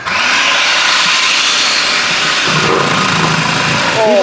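A motorized vegetable cutter whirs loudly and steadily as it slices carrots and potatoes, a close high-pitched mechanical drone with brief rattling, and no one speaking.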